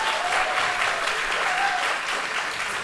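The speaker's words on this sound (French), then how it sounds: "Et on peut les applaudir à force" A small studio audience claps in a steady, dense burst of applause with a faint whoop over it, holding at an even level throughout.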